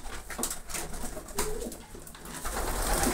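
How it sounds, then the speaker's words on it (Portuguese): Pigeons coo steadily at close range as they hop in and settle for the evening, their soft repeated calls layered with wing flutters and light movement, no talking. "É desse jeito aí que os pombos vão entrando todo dia"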